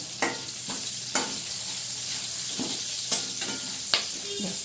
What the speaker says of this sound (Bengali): দিয়ে 1 মিনিটের মতন আমি ক্যাপসিকামের সঙ্গে ভেজে নেব।